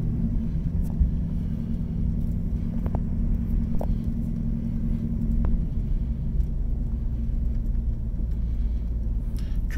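A 3rd-gen LS-swapped Chrysler vehicle driving down the road, with a steady low engine and road rumble that holds at an even, loud level throughout and no talking.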